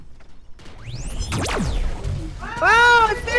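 Cats meowing in the video game Dead Shot Heroes, a few rising, wavering meows near the end after whooshing and mechanical clicking game effects.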